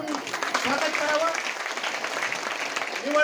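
Audience applause at a women's self-help group loan distribution gathering in Karjat, a moderate, fairly even patter of clapping lasting the whole moment.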